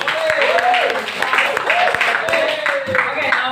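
Students in a classroom microteaching session clap in scattered, sharp bursts, with the claps sounding under and between a person talking throughout.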